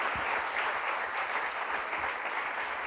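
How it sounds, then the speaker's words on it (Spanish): A church congregation claps together at a Spanish-language Sunday morning service, a steady wash of applause at moderate distance with no voices over it. "Dale un aplauso al Señor esta mañana."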